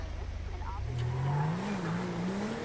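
A car's engine revs and rises in pitch as it drives in GTA V, one steady climbing tone that sits prominently over a background of game ambience.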